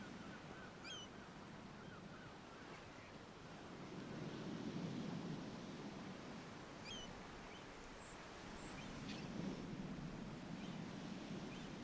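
Sea waves wash in and recede in slow surges on a windy shore, a soft steady roar swelling twice, with faint bird calls drifting over it and no talk.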